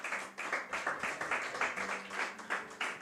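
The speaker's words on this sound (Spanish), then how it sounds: "denle un aplauso al Señor" Church congregation clapping in rhythm during a Spanish-language sermon, regular beats repeating about every half second, moderately faint, with a sustained tone underneath.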